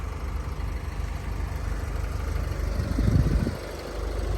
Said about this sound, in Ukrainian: Мотор працює дуже чітко, плавненько.